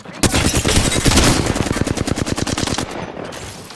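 Rapid automatic gunfire rips through an Apex Legends firefight, a loud close burst of evenly spaced shots lasting about three seconds before trailing off.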